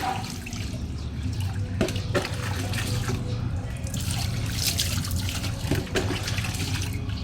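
Water from a tap runs steadily into a container as it is emptied and refilled, a continuous splashing stream with a few brief knocks and drips, close and fairly loud, with no talking.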